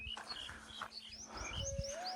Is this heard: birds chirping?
yes